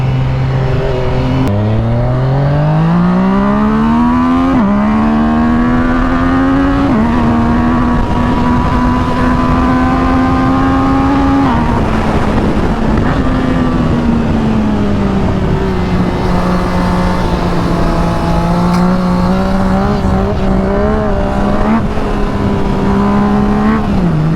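A Yamaha MT-09 three-cylinder motorcycle revs repeatedly while its tyres are warmed up, a loud, close engine note climbing and falling in long sustained pulls with a steady drone between them.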